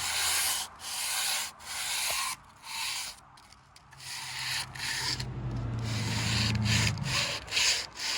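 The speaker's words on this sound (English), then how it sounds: "putting your sandpaper on your sanding block tightly" Rhythmic rasping strokes of sandpaper rubbing across wood, back and forth with brief pauses, close and fairly loud.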